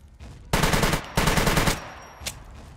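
Two loud, close bursts of automatic AK rifle fire in the SCUM video game, each lasting about half a second with a short gap between them, then a single fainter shot.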